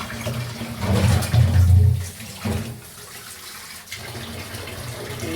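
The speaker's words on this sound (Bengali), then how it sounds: "এর মধ্যে পানি অ্যাড করে দেবো।" Water is poured into a pot of goat meat frying with spices, cardamom, cinnamon and bay leaf, giving a loud gushing splash for about a second before settling into quieter bubbling and sizzling.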